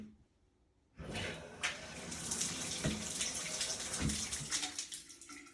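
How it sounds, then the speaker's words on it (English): After a second of near silence, water bursts from a Recharge or Refresh shower filter and keeps gushing in a steady, close hiss with small splashy fluctuations. "No, water didn't come out spiraling"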